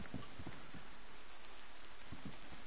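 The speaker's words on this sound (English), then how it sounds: "Of course it's got to start raining." Rain begins falling in a video game, a steady, even hiss of drops with soft scattered patters and no voices.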